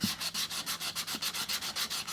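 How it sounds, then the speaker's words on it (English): Sandpaper rubbed over the edges of a cured resin faux-marble piece, quick rhythmic back-and-forth strokes about four per second, close and steady with no talking. "Let's give these edges a bit of a sand."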